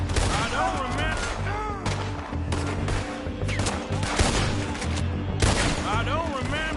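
Gunfire from the western video game Red Dead Redemption 2, in a shootout with several rapid shots and bursts cracking close and loud, mixed with voices talking throughout.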